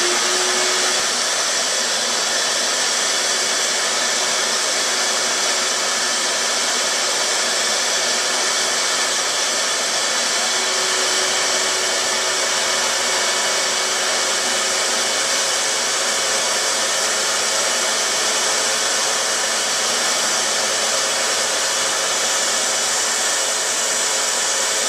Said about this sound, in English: start up my shop vac that I've got connected here for some a little bit of dust control